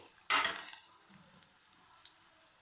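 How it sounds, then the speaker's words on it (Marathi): Roasted chickpeas are tossed in a pan for potato poha, starting with one sharp rattling clatter, then a few faint ticks and scrapes in a quiet background. "आता टाकून घेते मी फुटाणे फुटाणे बी थोडा वेळ असे परतून घेते"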